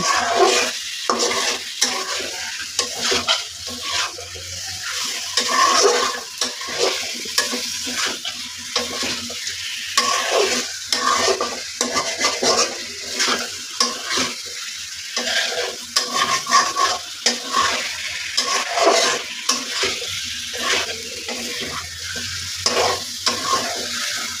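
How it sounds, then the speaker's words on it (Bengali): Chicken pieces, including skin and gizzard, stirred and fried in a pot without any water for chicken biryani, giving a steady sizzle broken by repeated scraping stirs and clinks of the spoon against the pot, alone with no talking. "সব রকমের পিস দিয়ে নেড়ে চেড়ে রান্না করে নিচ্ছি"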